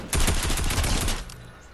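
Rapid automatic gunfire in a Fortnite-style creative video game map, a dense burst of loud shots lasting about a second before tailing off, with no voice.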